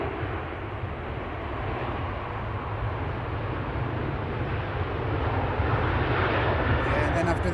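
A Qatar Airways airliner at Manchester Airport produces a continuous low engine rumble, fairly distant and steady, growing slightly louder toward the end, with a voice talking over it.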